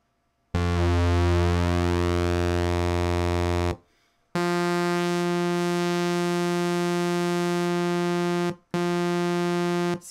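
A Moog Slim Phatty synthesizer plays a loud, bright saw wave, holding a sustained buzzy tone rich in harmonics, broken by two short gaps as the note is retriggered.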